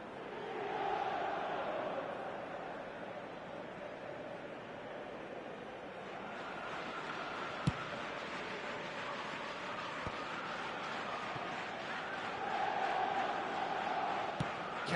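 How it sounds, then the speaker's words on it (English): A large stadium crowd in the eFootball video game moans and groans in a sustained, rumbling wash of voices, swelling near the start and end, with a few sharp clicks over it. "the moans and groans from the stands now are very audible"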